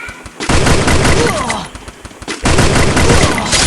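Close, loud gunfire in the mobile shooter Free Fire, two rapid bursts of shots separated by a short lull.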